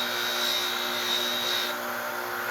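A buffing wheel on a polisher spins with polishing compound applied, giving a steady, loud motor whine with a high tonal hum and broadband rushing noise throughout, close and continuous.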